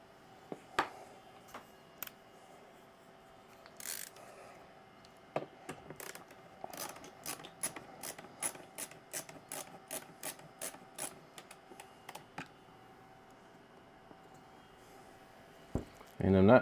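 Screws being tightened in opposite corners to seat an AMD CPU cooler in a custom PC build: a run of small, crisp ratcheting clicks and scraping ticks, close and moderately loud, with a few softer rubs and a louder thump at the end.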